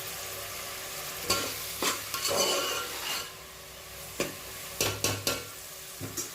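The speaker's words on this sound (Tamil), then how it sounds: "அதுக்குள்ளே வெங்காயம் வதங்கட்டும்" Onions sautéing in a pan, a steady hiss of frying punctuated by several distinct spatula scrapes and taps against the pan, some in quick clusters, heard up close without talk.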